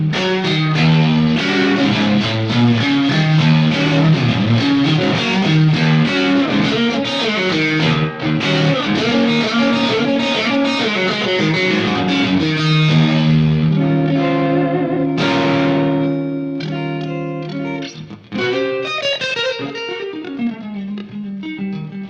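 An ESP Maverick, a classic 80s shred electric guitar, plays with its pickup split, a continuous loud run of bright, effects-laden notes with distortion and reverb, and no voices over it.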